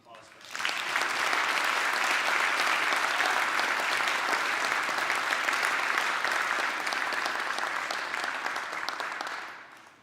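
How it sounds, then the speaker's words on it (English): Honored students at a school award ceremony receive a sustained round of applause from an audience. The clapping swells quickly, holds dense and steady for several seconds, then fades out. "How about a round of applause for them?"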